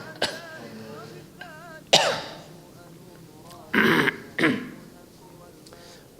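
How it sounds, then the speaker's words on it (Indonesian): Throat clearing and a few short coughs from one nearby person, coming in separate bursts with quiet pauses between them, with no talking. "sudah batuk dikit tadi"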